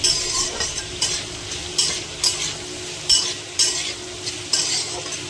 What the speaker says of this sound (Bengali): জাস্ট একটু ভাজা ভাজা করে নেবো